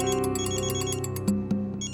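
A phone rings with an electronic ringtone for an incoming call, a loud, steady repeating melodic pattern of bright pulses close by.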